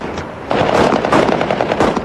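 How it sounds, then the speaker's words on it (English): A rapid burst of automatic gunfire, sharp rattling shots fired in quick succession, loud and close, lasting about a second and a half. "there was a little show of gunfire by his men to greet him"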